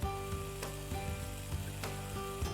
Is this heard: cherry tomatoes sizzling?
yes